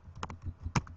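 Short bursts of keyboard typing, a few quick keystrokes close by with a louder tap near the end, alone without talk.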